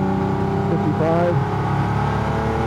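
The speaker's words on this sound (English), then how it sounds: "Turbo kicking in." A custom 2009 Cadillac CTS-V race car accelerates with its turbo kicking in, giving a steady loud engine drone that climbs in pitch briefly midway, heard from inside the car.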